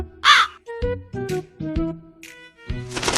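A cartoon crow caws loudly in a Hindi kids' cartoon, a few harsh calls following one another in a quick, uneven series with no talk over them.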